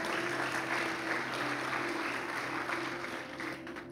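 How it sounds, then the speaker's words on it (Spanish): A church congregation applauds during a sermon, a soft, steady wash of clapping heard at a distance, with a faint hum beneath it. "dele un aplauso al Señor"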